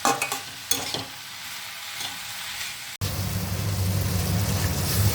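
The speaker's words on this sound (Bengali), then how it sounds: "গ্যাসটা একটু বাড়িয়ে দিয়ে একটু ভালো করে ভাজবো পুরোটা।" Onion, tomato and cashew nuts fry in a pan over raised gas heat: stirring scrapes and sizzling for about three seconds, a brief cut, then a louder steady sizzle to the end, with nobody talking.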